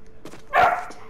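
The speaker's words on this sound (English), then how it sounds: "Apollo, stop barking." A dog named Apollo gives a single short bark, close and fairly loud, in a quiet moment during Star Wars Jedi Fallen Order gameplay.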